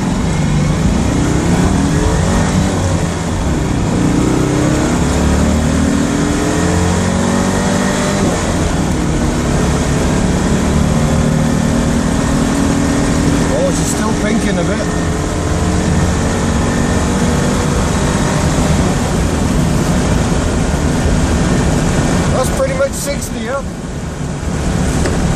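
A Citroën Dyane in camouflage military trim drives along with a loud, buzzing engine drone and road and wind roar, shifting pitch as it moves, with brief rattles near the end.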